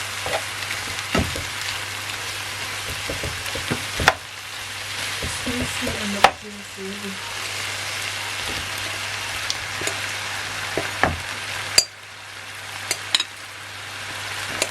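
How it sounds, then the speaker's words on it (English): Marinated prawns hit a hot pan of onions for sweet chilli prawns, bursting into a loud sizzle that settles into steady frying, broken by several sharp clatters of the pan and utensil. "I'm going to go in now and add my prawns, which has been marinating for 1 hour"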